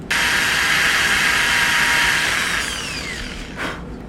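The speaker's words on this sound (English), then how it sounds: "Let's get this end drilled out so we could get this connection piece in." A high, steady power-tool whine drills out the end of a handmade ultralight trout swimbait. The whir holds loud for about two and a half seconds, then eases and winds down before a brief burst near the end.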